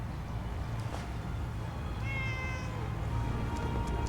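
A cat meows in Fallout 4's Far Harbor, with a couple of distinct meows, one near the start and a longer drawn-out one midway, heard close over a steady low game ambience with no talking.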